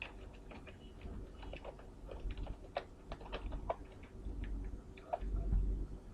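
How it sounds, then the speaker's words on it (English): Fingers typing an email address and password on a computer keyboard, a run of quick close clicking keystrokes in uneven bursts over a low steady background hum, no talking. "Let me just put a password."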